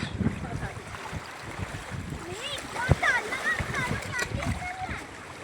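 Seawater at Marawila beach splashes and rushes past in steady surges close by, with a sharper splash partway through, while people talk and shout excitedly over it.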